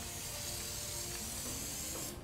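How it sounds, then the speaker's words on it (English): An aerosol can sprays GulfCoat coil coating in one steady, broad hiss that continues without a break and cuts off at the end, with no talking over it. "I'll show you the process of how you spray this coating on"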